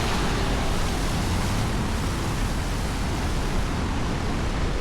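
A mountain stream near Mt Rainier's Paradise area rushes in a steady, dense broadband roar that stays loud and unbroken throughout, with no voices over it.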